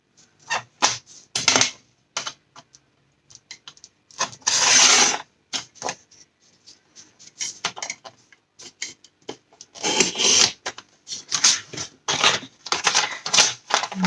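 Paper being cut to size for a sea-themed pop-up album, heard as bursts of close, dry cutting and scraping strokes with short pauses in between, loud and uneven in rhythm.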